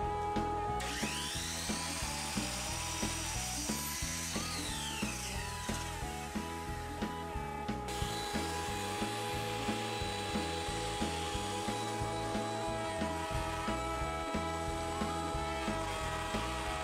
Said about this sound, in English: Now I'm cutting the adjusters to length.